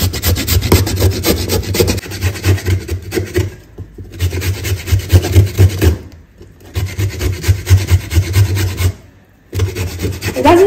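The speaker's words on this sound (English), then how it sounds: "We are done with the grating of the cassava too." Cassava being grated by hand for a coconut cake, a loud, steady rasping rub in rapid back-and-forth strokes, close up, broken by a few brief pauses and with no talking.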